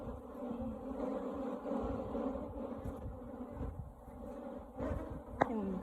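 Africanized honeybees buzzing around a tarantula wasp, a continuous dense drone of many wings close by, fairly quiet and steady with no voices.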